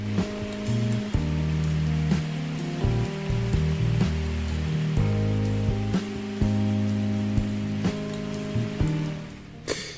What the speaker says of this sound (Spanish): un vídeo de YouTube que se llama la atmósfera de una cafetería en un día lluvioso por la noche, música jazz y sonido de lluvia